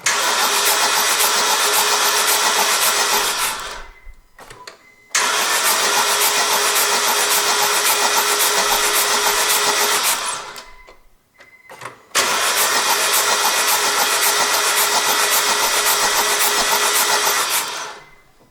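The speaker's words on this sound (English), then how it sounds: "Now I go to start my engine" A car engine being started three times, each crank catching into a loud, steady running roar that lasts a few seconds before cutting off, with brief quiet gaps between the starts; no talking.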